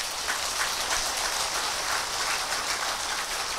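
Steady, dense applause from a large audience at a Korean Buddhist dharma assembly, a continuous hiss-like clapping wash at even loudness throughout, with no talk over it.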